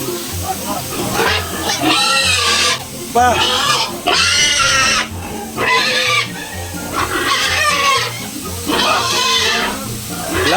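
Pigs at a piggery grunt and squeal in repeated bursts, loud and close, with chickens clucking in between and some voices mixed in.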